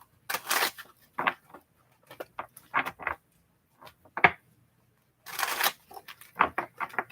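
Tarot cards are shuffled in short bursts of riffling and slapping, close and crisp, with pauses of near silence between handfuls.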